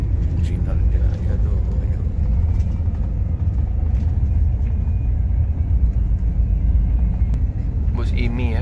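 Engine rumble from an IMI medium-size intercity bus on the Jambi–Palembang route pulling away from a terminal, a steady loud low drone with traffic and station noise around it, and people talking nearby.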